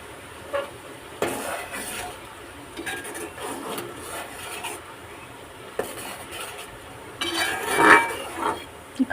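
A spoon stirs and scrapes a thick maavilakku rice flour mixture in a pan, with repeated close metallic clinks and rubbing scrapes at an irregular pace, louder near the end.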